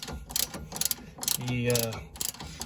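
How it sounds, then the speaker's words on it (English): A ratchet wrench with a 17 mm socket tightens a nut onto the sway bar link stud of a 2003 Mazda Protege while an Allen key holds the stud. Close, brisk clicking bursts come with a short steadier grinding stretch midway. "we're going to tighten our nut onto that"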